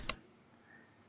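A single crisp mouse click selecting an item in the Firefox browser menu, brief and close, followed by near silence.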